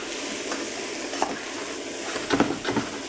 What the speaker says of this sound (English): And fry again for a couple of minutes, stirring occasionally.